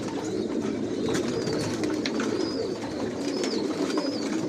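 Racing pigeons in a loft coo steadily and continuously at close range, a dense low murmur of many birds with faint higher chirps above it and no talk.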